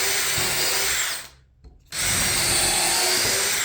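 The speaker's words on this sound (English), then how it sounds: "And then you can use a countersink or just a drill bit." A power drill whines loudly as it bores into wood, stops briefly for a second, then starts again at full speed.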